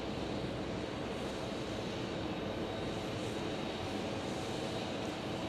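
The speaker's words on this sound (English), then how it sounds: "So that 777 getting repositioned for the London flight tonight" A Boeing 777 is repositioned at Phoenix Sky Harbor airport, its engines a steady, loud broadband roar that holds evenly throughout with no voices.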